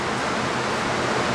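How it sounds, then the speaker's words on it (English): Aerosol carburetor and choke cleaner sprays into the jets and holes of a Toro 22-inch Recycler lawn mower carburetor, a loud, close, continuous hiss with no talking. "And I'm going to spray all this out with carburetor cleaner, all the holes in the jets"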